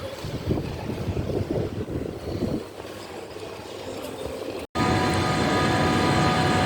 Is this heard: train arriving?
yes